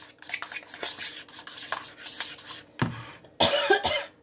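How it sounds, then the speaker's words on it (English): Several short coughs break out amid clinking dishes and stirring sounds while cooking fried cauliflower with garlic seasoning, with a louder burst of coughing near the end. "Makes you cough."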